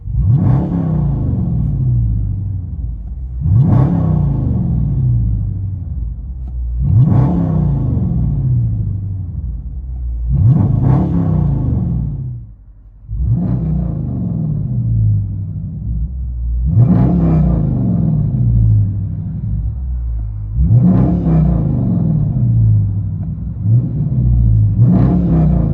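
Heard from inside the cabin, a Dodge Charger R/T with a 5.7L HEMI V8 and muffler-delete or straight-pipe exhaust revs again and again, about eight loud, deep surges that rise and fall over a rumbling idle.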